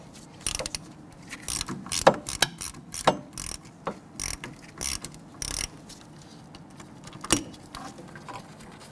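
A hand ratchet removes a nut during rear ABS sensor replacement on a 2006-2012 Toyota RAV4, making a series of close, quick clicking strokes in irregular bursts with short pauses between them.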